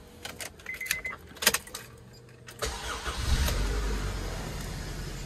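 A car engine cranks and catches, then settles into a steady idle after a few faint key and cabin clicks, close and clear with no talking.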